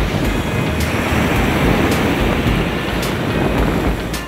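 Sea waves roll onto a Maldives beach, a dense, loud and continuous roar of surf with gusty wind buffeting the microphone, heard up close with no voices.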